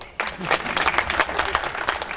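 An audience bursts into steady, dense applause after a brief quiet start, many hands clapping together continuously at close range.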